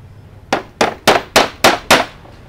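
A hammer pounds a wooden screen printing frame made of hard wood, six sharp, evenly spaced strikes ringing out loud and close with no talking.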